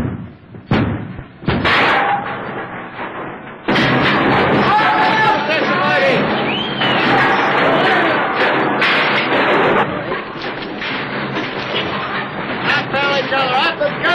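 A mortar fired at an enemy submarine: a few heavy, booming thumps early on, then loud voices and crowd babble over continuing noise.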